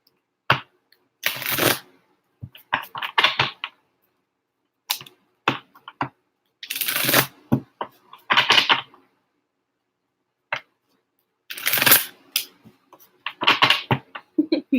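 An oracle card deck, the Romance Angels set, being shuffled by hand in repeated bursts of crisp riffling and papery slaps, separated by short pauses, close and fairly loud with no talking.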